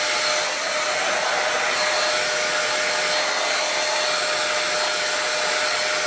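A hair dryer blows steadily while hair is dried, a loud, continuous airy whoosh with a faint high whine, running alone without pause.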